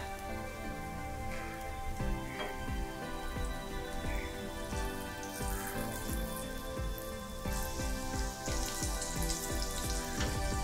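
Matar cutlets sizzle in a pan over a low flame, a dense, continuous crackle and spatter of frying oil with scattered pops, close and steady throughout with no talking.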